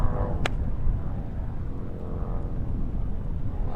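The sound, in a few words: distant motorbike engine in a quiet valley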